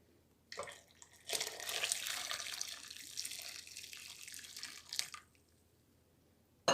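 Water pours steadily into a container for several seconds, with a splashy rushing sound that starts and stops with short gaps, close and fairly quiet.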